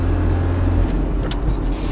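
Inside a car driving along a quiet road on a Sunday morning, a steady low rumble of engine and road noise fills the cabin, constant and fairly loud.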